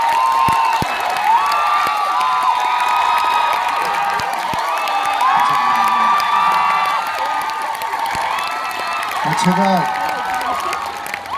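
Studio audience applause and cheering on a Korean TV variety show, a dense, continuous wash of clapping mixed with shouts and whoops, loud and sustained throughout.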